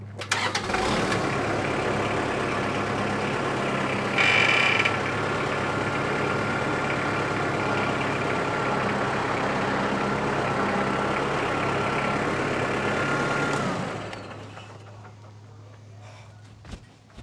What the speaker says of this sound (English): I'm just going to back the tractor up to get these boards out of the way